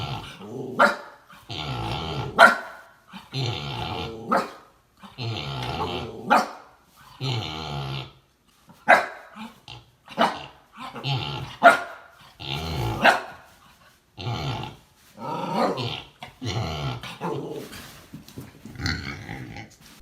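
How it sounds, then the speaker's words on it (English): A dog barks and growls at a tired pig: repeated loud, close bursts of barking and snarling growls in irregular rhythm, with brief pauses between outbursts and no talk. "This dog is trying to wake up this tired pig."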